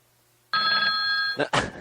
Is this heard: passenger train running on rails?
no